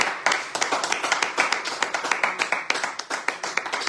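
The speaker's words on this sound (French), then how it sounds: "Là, ça applaudit de moins en moins fort." A small audience claps in a steady, somewhat sparse rhythm, each clap sharp and distinct, with the applause thinning and growing weaker over a few seconds.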